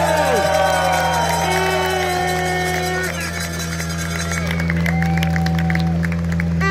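Rally fans at the Central European Rally 2023 power stage finish cheer, whoop and applaud in a loud, sustained crowd roar, with voices shouting and a steady low hum underneath.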